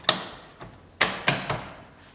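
Plastic door molding on an Acura RDX is pressed onto the car door, giving four sharp, close clicks and snaps spaced unevenly over about two seconds.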